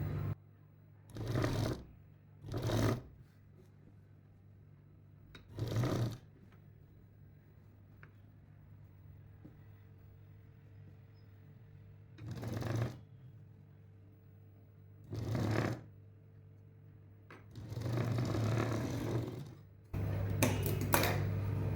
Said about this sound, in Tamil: ஒரு தையல் போட்டிருக்கோம்